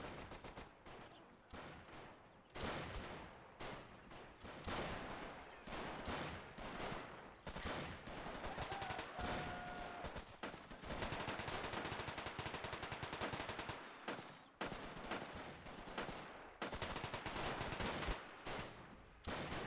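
Rapid STG rifle and machine-gun fire in a Robz Mod 1v1 tournament match, with sustained loud bursts and crackling shots continuing almost without pause, few gaps, and no talk over it.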